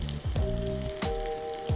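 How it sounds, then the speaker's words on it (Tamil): Sliced onions and small shallots fry in hot oil in a pan, giving a steady close sizzle broken by a few soft knocks as they are stirred. "இது வந்து வெங்காயம் நல்லா பிங்காக வதங்கணும்."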